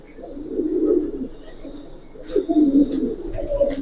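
Giribaz pigeons, a female among them, coo in low, soft, rolling phrases that swell and fade in two bursts, with faint chirps and thin high noises over them.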